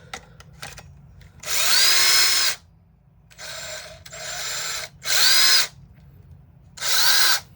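A worn Ridgid cordless impact driver runs in four loud bursts of a second or so each, buzzing and rattling, with short quiet gaps between.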